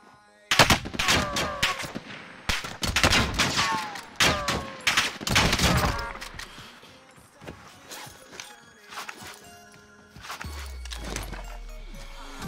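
Automatic gunfire from a video game gun, with rapid bursts and rattling volleys of shots up close, loud and sustained over several seconds, then thinning into scattered fire with lower rumbling in the background.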